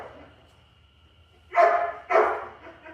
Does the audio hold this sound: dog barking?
yes